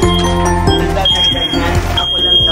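An alarm goes off indoors at a lakeside cottage, a loud, steady electronic tone with repeating pulses sounding throughout while people talk over it.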